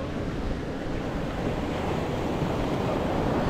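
Steady roar of ocean waves and surf, broad and continuous, with wind buffeting the microphone and no voices.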